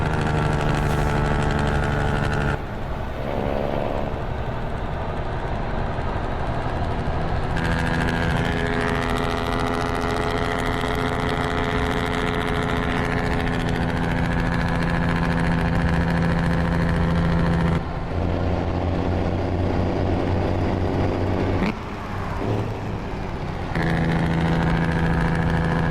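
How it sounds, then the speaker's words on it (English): Heavy truck engine in American/Euro Truck Simulator, running steadily loud throughout with a deep droning rumble and shifting tonal layers like jake brake engine braking on a downhill, with brief dips and changes in pitch. "Jake brake's coming in handy down here."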